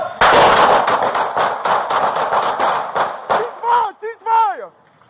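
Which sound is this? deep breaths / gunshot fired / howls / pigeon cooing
gunshot fired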